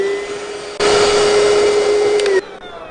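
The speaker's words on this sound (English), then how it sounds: "Oh, such a cute vacuum cleaner." A small, compact vacuum cleaner switches on abruptly, runs with a loud, steady whine and hum for about a second and a half, then cuts off, leaving quiet on both sides.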